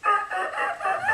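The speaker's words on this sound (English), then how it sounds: "I could remember when we woke up, the rooster would crow, and you can still hear it today" A rooster crows once, loud and close, in a drawn-out wavering call.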